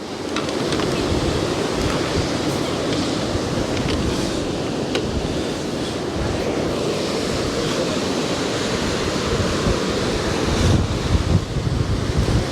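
Steady roar of surf breaking on a beach, continuous and loud with wind buffeting the microphone, no voices.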